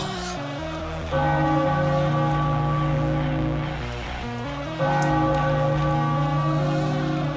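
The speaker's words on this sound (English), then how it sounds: "Ring the bell." After a home run at a Phillies spring training game against the Orioles, the ballpark bell is struck twice, each resonant clang humming on at length over faint crowd ambience.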